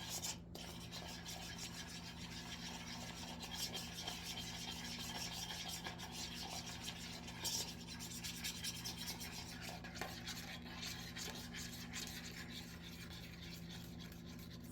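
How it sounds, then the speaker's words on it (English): Cream cheese frosting with vanilla extract being whisked or stirred in a bowl: a faint, continuous scraping and rubbing texture with a low steady hum underneath, no voices. "you're just going to whisk it together or stir it together to get a nice icing consistency."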